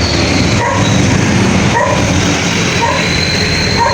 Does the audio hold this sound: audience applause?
no